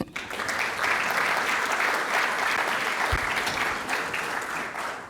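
An audience at a college agricultural sciences event applauds in a dense, steady wash of clapping that starts abruptly and holds at an even level throughout.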